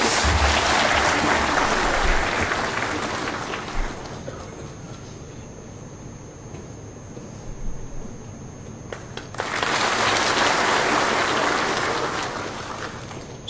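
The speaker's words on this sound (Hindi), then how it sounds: "दर्शकगणों से निवेदन है कि वे अपनी तालियों से मंच पर आने वालों का स्वागत करें।" Applause from an audience at an Assam Rifles ceremony welcoming people onto the stage, a dense patter of clapping that fades to a quieter lull midway before swelling again to full strength.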